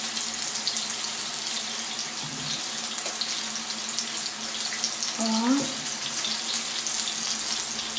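Water being poured off turkey breasts cooking in a frying pan, a steady splashing, hissing stream running through the whole stretch, close and fairly loud, with a brief vocal sound partway through.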